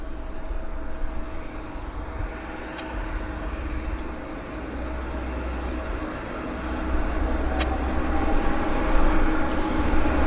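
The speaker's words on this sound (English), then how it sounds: "Right now we've got a 37 landing here. It's a Westjet." A WestJet Boeing 737 airliner landing at Vancouver International Airport, heard as a steady broad jet roar from a distance that swells slightly toward the end.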